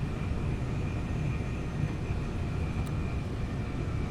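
An HST diesel train in Train Sim World 2 slowing for the approach to Hassocks, a dense continuous engine rumble with a faint steady whine above, heard alone without talk.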